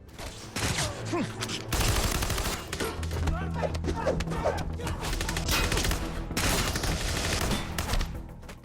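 Gunfire in a violent fight: dense, rapid shots and bursts crackle almost continuously for several seconds, loud and close, with heavy impacts and a busy layered background.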